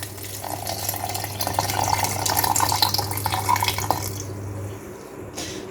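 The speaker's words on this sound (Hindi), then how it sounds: "1 kg पानी ऐड कर देंगे।" Water poured into a juicer jar holding falsa berries makes a steady, close splashing pour that lasts about five seconds, then stops abruptly.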